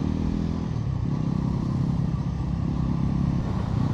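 A Bajaj Pulsar NS 400Z motorcycle runs steadily while being ridden, its engine a continuous loud rumble with road and wind noise throughout and no speech.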